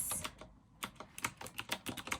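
Keys clacking on an AZIO Retro Classic compact keyboard, a brisk uneven run of close, crisp keystrokes with a short pause partway through.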